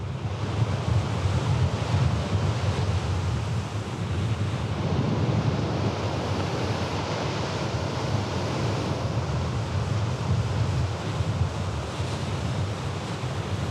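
Storm waves crash against a sea wall facing a lighthouse in Brittany during a spring tide, with strong wind buffeting the microphone; the surf roars loud and continuous throughout, with no voices.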